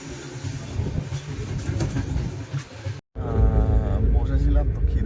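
Inside a moving second-class AC train carriage: a steady low rumble with rhythmic rail clatter, briefly cut off and then resuming louder, with people talking over it.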